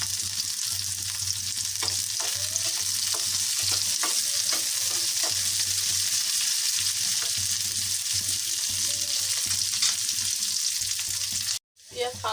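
Onions and plenty of green chillies fry in a pan with a steady, loud sizzle and occasional stirring scrapes, continuous for about eleven seconds before a brief drop near the end.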